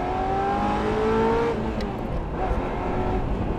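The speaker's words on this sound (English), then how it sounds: "I can listen to the exhaust system on this car without anything interfering." A Ferrari F355 Spider's V8 engine drones loudly and steadily, its exhaust note holding a rising pitch, then easing slightly, with no one speaking.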